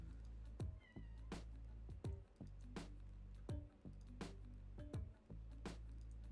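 A pet cat meows again and again indoors, about six drawn-out cries at a steady pace, faint and fairly distant, with soft clicks between them.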